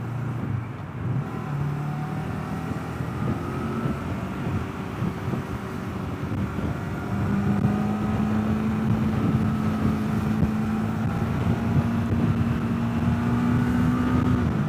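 Street traffic in Istanbul heard from a moving motorcycle: a steady engine drone with rising tones as vehicles rev and accelerate nearby, a continuous rumble throughout.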